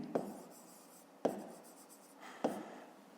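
A pen writes numbers by hand on paper while working a fifth-grade maths problem: quiet scratchy strokes punctuated by three sharp taps roughly a second apart, close up with no talking.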